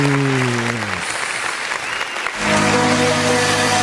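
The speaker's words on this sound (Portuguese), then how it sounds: "Vamos dar uma salva de palmas para Jesus?" A church congregation at an online worship service breaks into loud, sustained applause, with steady tones of music or singing sounding before and under the clapping.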